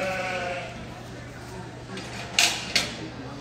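Sheep bleat at a live shearing demonstration at a New England fiber festival, heard over a steady background hum, with two sharp clacks near the end.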